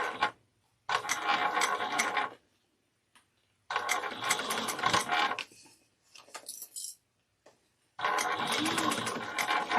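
Guided along with a stiletto, a sewing machine stitches raw edges of a Kandu bag in three separate bursts of close, steady whirring, with short quiet gaps and light clicks between runs.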